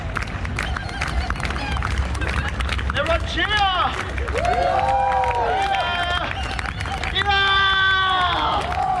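Outdoor street show crowd at Darling Harbour, Sydney, cheering and whooping loudly at a chainsaw juggling performance, rising yells and shouts over a dense crowd roar, with a performer's voice calling out.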